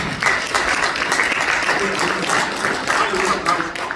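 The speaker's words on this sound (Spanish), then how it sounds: "Dale un aplauso al Señor" Church congregation applauding for the Lord during a Spanish-language sermon, a dense, steady wash of many hands clapping that fills the full few seconds, with a few voices mixed in.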